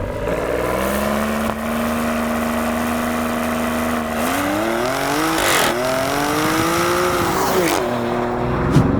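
A 2023 Maserati Grecale SUV's V6 engine revs hard under acceleration, pitch climbing steadily as boost builds, with a brief shift-like dip before surging again, a throaty, continuous exhaust roar.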